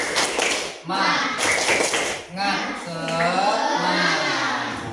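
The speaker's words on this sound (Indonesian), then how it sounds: "kita tepuk semangat dulu ya anak-anak. Tepuk semangat" Children in a classroom doing a rhythmic spirit clap, quick bursts of tapping and clapping in short patterned groups, with young voices chanting along between the claps.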